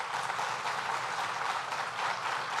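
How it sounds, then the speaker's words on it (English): A crowd at a state government announcement applauds, a dense and steady patter of clapping that lasts the whole short stretch at moderate volume. "Let's give him another round of applause."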